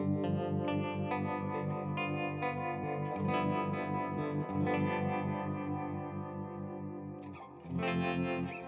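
Electric guitar played through a Wampler Ethereal delay with a Strymon Flint pedal, sustained chords and notes layered with shimmering, repeating echoes and wash, with a fresh strum near the end.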